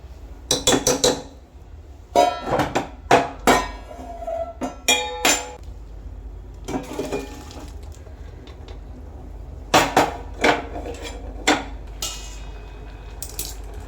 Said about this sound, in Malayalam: ഇനി നമുക്ക് ഇത് മറ്റൊരു പാത്രത്തിലേക്ക് പകർത്തി കൊടുക്കാം